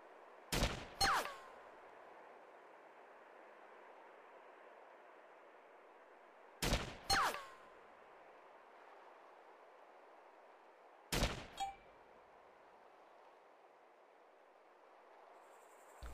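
FN FAL assault rifle in the video game DayZ fired on semi-automatic: three separate bursts of two sharp shots each, several seconds apart, over a steady background hum, no speech.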